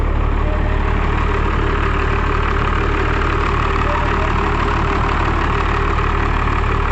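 A Cummins 12-valve diesel engine idles steadily and loudly for the whole stretch, a dense low rumble with an even mechanical knock running unbroken and close by, no voices over it.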